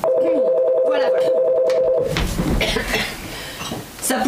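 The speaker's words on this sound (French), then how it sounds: "Olivia, Olivia, le téléphone." A telephone rings during a French stage comedy performance, its steady electronic warble repeating for about two seconds before cutting off, followed by busy room noise and stage movement.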